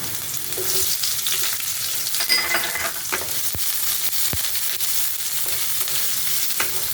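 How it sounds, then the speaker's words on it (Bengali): Chopped onion and garlic fry in hot oil in a pan, a constant close sizzle with occasional stirring scrapes and a couple of sharp utensil clicks, no voices heard. "এবার দেবো পেঁয়াজ কুচানো"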